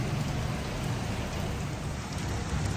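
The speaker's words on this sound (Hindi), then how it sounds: "दुबई में बारिश।" Steady heavy rain pouring down in Dubai, a dense continuous hiss with low rumbling underneath, no voices.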